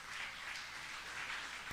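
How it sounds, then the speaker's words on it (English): Audience at the Geeks on a Beach event applauds the designers, a dense, steady wash of many hands clapping that holds at an even level throughout. "Let's give them a round of applause"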